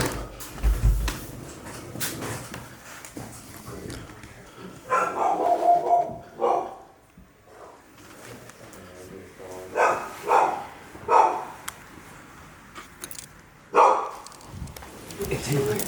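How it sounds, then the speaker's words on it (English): A dog trapped inside an abandoned house barks in several separate bursts, muffled and somewhat distant, between stretches of people talking quietly nearby. "Actual dog trapped inside that house right now."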